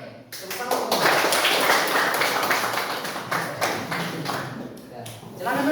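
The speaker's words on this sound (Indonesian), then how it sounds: "Tepuk tangan semua." Classroom of students clapping hands together at a teacher's prompt, a dense burst of sharp claps that starts abruptly and continues steadily, with voices mixed in underneath.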